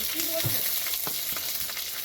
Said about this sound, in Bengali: ঘিয়ের মধ্যে কয়েকটা তেজপাতা, লবঙ্গ, দারচিনি, এলাচ দিয়ে দিলাম